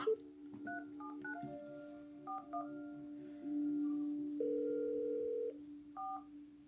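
Telephone dialing tones in a Thai drama: a run of clear beeping keypad tones, then a longer steady tone, all fairly faint with some quiet background sound.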